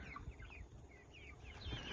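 Four-week-old meat chickens cluck softly in a group nearby, with overlapping short calls at low volume and no talk.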